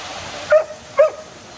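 A dog on a walking path gives two short, sharp yips about half a second apart, at moderate distance over a quiet outdoor background.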